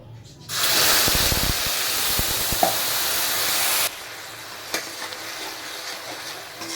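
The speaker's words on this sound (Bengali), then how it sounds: "এরপরে আমি ওই তেলের মধ্যেই পেঁয়াজ বাটা লঙ্কা আর টমেটোর যে একটা পেস্ট করেছিলাম সেটা দিয়ে দেব" A paste of ground onion, chili and tomato dropped into hot oil bursts into a loud, crackling sizzle, holds steady while stirred, then drops to a softer fry with occasional clicks.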